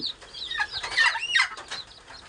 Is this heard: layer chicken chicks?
yes